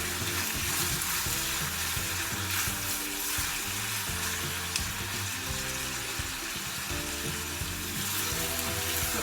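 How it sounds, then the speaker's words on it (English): Beef pieces hit hot oil for an Anglo-Indian pepper fry and are stirred, with a dense, loud, continuous sizzle and bubbling. Scrapes and occasional clinks from the spoon come through a low hum, and no one speaks. "I'm going to add in our beef. Okay, and we'll give it a stir."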